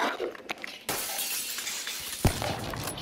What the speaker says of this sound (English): I don't think you could break the glass